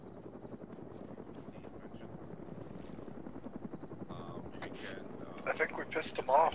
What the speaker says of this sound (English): There's another helo coming straight for us, but it looks like it's stopping. I think he's landing in the compound.